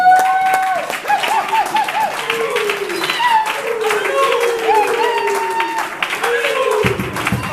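A church congregation applauds, loud, dense clapping running throughout, mixed with raised voices and sung or shouted tones over the top, cutting off abruptly at the end.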